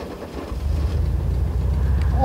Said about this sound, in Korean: 자, 시동을 켜보면